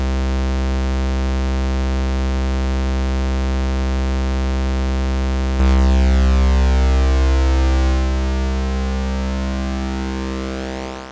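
A steady, buzzy modular synthesizer drone of stacked oscillator tones, held in tune without drift, holds perfectly still, then shifts to a fuller chord that rings on evenly without wavering.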